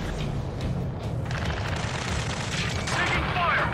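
Gunfire rattles in dense, continuous bursts during a combat mission in the video game Ace Combat 7, with booming impacts mixed in and shouted radio voices over the top.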